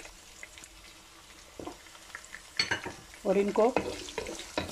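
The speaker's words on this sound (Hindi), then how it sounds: "2 से 3 मिनट तक अच्छे से हम इसमें फ्राई कर लेंगे।" Onion, garlic and ginger frying in a pan for a Pakistani kofta aloo dish: a soft sizzle with stirring scrapes that grows louder toward the end, while someone briefly speaks over it.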